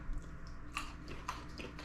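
Crisp crunches from biting into a pickled garlic clove, a few close bites and chews spread across the moment with no talking.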